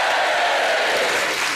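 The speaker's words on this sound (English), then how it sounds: "And a hearty cheer for Bill Bailey." A studio audience on a comedy quiz panel show applauds and cheers loudly and steadily for a panellist's introduction, a dense wall of clapping with crowd noise throughout.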